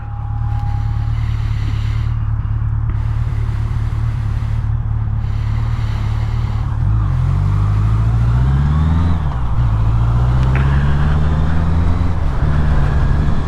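A motorcycle with an air-cooled engine rides along steadily, its low engine drone rising and falling in pitch as it speeds up and shifts, with rushing wind noise over it.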